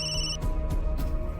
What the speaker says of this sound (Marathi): येतोय का फोन यांचा?